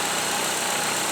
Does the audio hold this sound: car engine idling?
yes